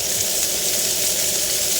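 Surf and turf frying on a very hot cooking surface makes a loud, steady, close hiss that fills the whole clip without a break.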